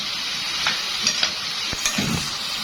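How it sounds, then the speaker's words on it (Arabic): Diced tomatoes stirred in a hot frying pan over high heat, a steady close sizzle with scattered scraping and clicking stir strokes, no talk. "هحط الطماطمايه اللي انا مقطعاها معايا مكعبات، وهقلبها برده. كل ده انا شغاله والنار عاليه معايا."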